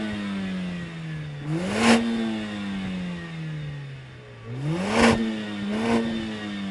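A 2016 Mercedes-AMG A45 S with sports exhaust in race mode revs repeatedly from idle, each blip rising sharply then falling back, with a burbling exhaust note close by and no speech.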